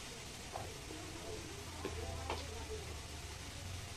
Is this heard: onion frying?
yes